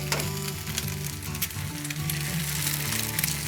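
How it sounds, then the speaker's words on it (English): Eggs crackle and sizzle in hot bacon fat in a pan, a dense, close frying hiss with sharp pops scattered over a steady background hum. "So just go ahead and crack those eggs right in there"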